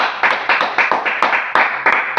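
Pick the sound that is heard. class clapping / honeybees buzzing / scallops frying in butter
class clapping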